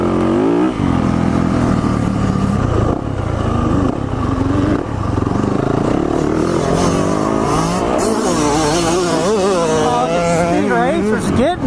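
Yamaha two-stroke dirt bike engine revving hard with rising and falling pitch sweeps, loud and close throughout, with a voice talking over it at points.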